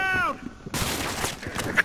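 Gunfire rings out in the shooter game Battlefield Hardline during a bank job match. A rising electronic tone gives way to a loud, dense burst of shots that carries on to the end.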